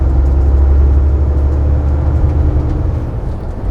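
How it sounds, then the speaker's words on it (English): Heavy-duty truck engine at full throttle, a loud low diesel drone pulling hard through skipped gear shifts, steady and close with slight dips in tone, no voices. "we're going to put the foot to the floor. It's skipped, shifted from 7 to 9. Just listen."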